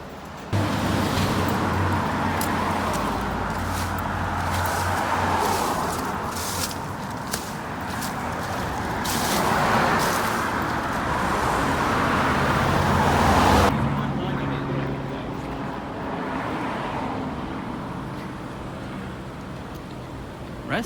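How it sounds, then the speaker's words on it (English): Steady road traffic on a West Hollywood street, a continuous wash of passing cars heard near and fairly loud from a pedestrian's position, thinning out somewhat in the final seconds. "Look at all the traffic."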